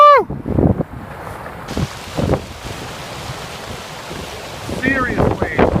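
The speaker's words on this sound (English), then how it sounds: "Serious waves here." Massive winter storm waves surge at high tide along the Humarock shore under gusting wind, with rough microphone buffeting and crashing surf rising and falling close by, as a few short exclamations and bird-like cries break through.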